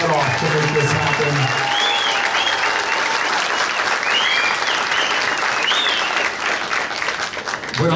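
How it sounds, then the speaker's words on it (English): An audience claps in a sustained, dense round of applause at a cast and directors interview at The Frida Cinema, loud and close, with some voices audible beneath the clapping. "I definitely want you guys to give Sammy a round of applause"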